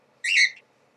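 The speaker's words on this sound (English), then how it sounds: "this is Sunny, my bird." A pet bird gives one short, bright, high whistle, close and clear, lasting about a third of a second amid near silence.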